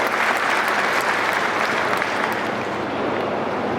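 Loud, sustained applause from an audience at an oath ceremony for newly elected district officials, welcoming a speaker to the stage; dense, steady clapping fills the whole stretch without pause.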